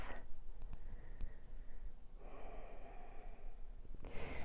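A yoga practitioner breathes in audibly during practice, with a soft drawn inhale at close range, a second breathy swell later and a brief noisy rush at the end, over a low steady room hum and no talking.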